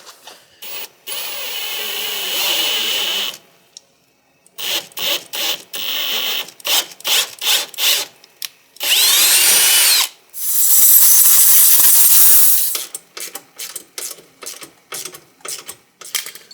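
Bursts of a thread tap being turned and run through a gunked-up bolt hole, giving choppy ratcheting and grinding with brief pauses and several longer steady stretches, close and fairly loud.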